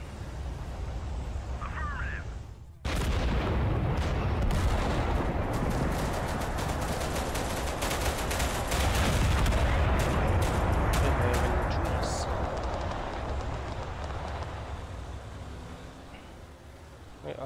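Dense artillery blasts and rapid gunfire roar continuously through a video game battle, loud and close after a brief quieter opening, with machine-gun bursts rattling over booming explosions.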